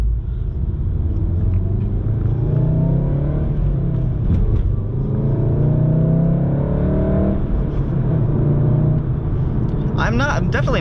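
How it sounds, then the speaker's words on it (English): Inside the cabin of a Volkswagen GTI, a continuous low engine drone hums while it drives, with synthetic engine sound piped in and rising and falling pitch sweeps as it shifts; a voice speaks over it. "I'm definitely not a huge fan of the fake engine noise being pumped into the cabin"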